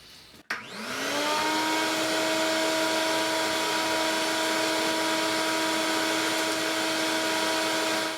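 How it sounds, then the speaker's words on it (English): A vacuum cleaner starts with a click and spins up, then holds a loud, steady whine over the floor of a 2006 Fleetwood Niagara pop-up camper under restoration. "Last thing left,"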